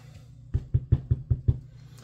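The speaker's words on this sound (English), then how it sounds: "let's knock on wood here and just..." Knuckles rap on wood six times in a quick, even series, close and fairly loud, with no talking over them.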